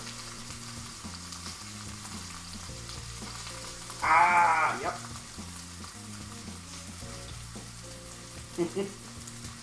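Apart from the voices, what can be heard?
frying in boiling oil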